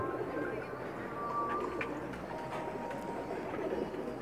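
Pakistani champion pigeons coo softly on a rooftop, low murmuring calls repeating over a faint steady background hum.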